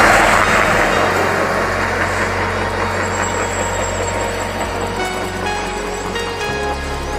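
A heavy truck roars past on a rural highway, a loud, broad rush of engine and tyre noise that swells close by and then slowly recedes, with a steady low rumble and no voices.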